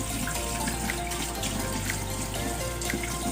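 Hot first-boil water is poured out of a pot while cooking goto, Batangas-style beef tripe soup, a continuous loud rushing splash like a running tap that holds steady throughout.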